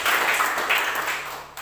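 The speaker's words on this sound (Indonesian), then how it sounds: "Tepuk tangan yang terbaik bagi Tuhan kita" A church congregation applauds during a sermon, dense continuous clapping from many hands at steady loudness, with no talk over it.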